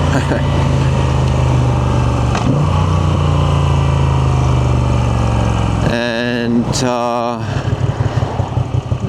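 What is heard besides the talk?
motorcycle engine idling and revving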